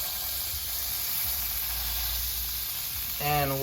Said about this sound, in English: I put some more butter on it for flavor.